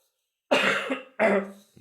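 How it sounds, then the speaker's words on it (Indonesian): Two harsh coughs in close succession, loud and near, with a short gap between them and no talking. "Maaf ya, batuk dulu."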